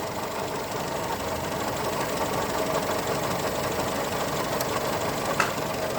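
A light car's engine idles at low speed, around 400 RPM, giving a steady, close, continuous rumble with a faint ticking texture and no talking.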